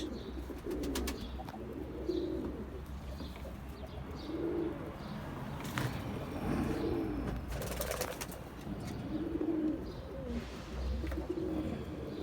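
Domestic pigeons, old yellow males, cooing in repeated low throaty phrases every couple of seconds, nearby over a steady background hiss with occasional faint chirps.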